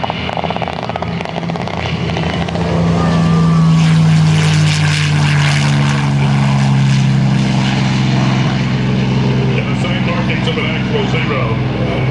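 A replica Tora propeller aircraft flies past at a Leesburg airshow, a loud sustained engine drone with a pitch that slides downward as it passes, while a commentator talks over it.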